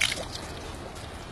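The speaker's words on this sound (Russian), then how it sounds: "Пожалуйста, вот течет вода. Вот обычная вода из-под земли" Natural spring water in South Ossetia flowing out of the ground, a steady close wet trickle and dripping with no other sounds over it.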